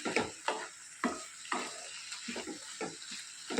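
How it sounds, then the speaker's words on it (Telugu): A spoon scrapes and stirs ridge gourd curry in a pan, roughly regular strokes about every half second over a soft sizzle, close by with no talk. "బీరకాయ ఉడికేంత వరకు ఇలా కలుపుకుంటూ మధ్య మధ్యనే మూత పెట్టుకుంటూ కలుపుకోవాలి"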